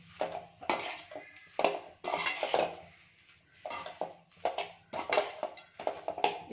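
Leftover chapati being tossed with gravy in a pan for veg kothu chapati, with repeated clattering strikes of a metal spatula against the pan in quick irregular bursts, close and fairly loud, no voices.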